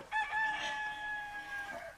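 A rooster crows once as a wake-up call inside a smart home, a loud, clear, drawn-out cock-a-doodle-doo heard alone for about two seconds.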